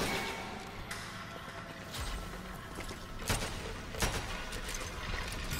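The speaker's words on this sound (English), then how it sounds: "I like this shotgun" Shotgun slam fire in the video game Strange Brigade, with several sharp, booming blasts spaced a second or two apart over a busy background of game noise.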